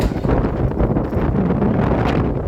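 Strong wind buffets the microphone in loud, continuous gusts, a rough roaring rumble with no other sounds standing out, outdoors at a street parade in Davao.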